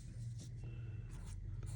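Pen or marker writing the Hindi word कार्य by hand, a few soft scratchy strokes in short bursts, close and quiet over a steady low hum, with no talk.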